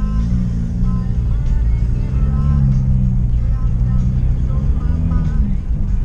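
A Honda Civic G10 Touring idling with an exhaust diffuser fitted, a low steady burble with a slight wavering pitch, recorded close while someone speaks over it.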